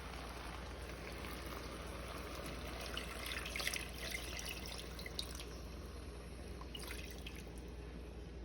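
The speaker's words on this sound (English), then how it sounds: "So now I'm gonna start going in with my water." Water poured into a hot pot of burnt, browning sugar for brown stew chicken, a steady soft hiss and sizzle with scattered sharp crackles and spits, fairly quiet and heard without talk.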